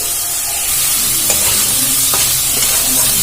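Moong dal fries in a pan with a loud, hissing sizzle and a few faint scrapes as it is stirred.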